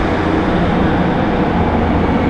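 A loud, steady low rumble of a train engine idling or running nearby in Gloucester, a dense continuous roar without pauses.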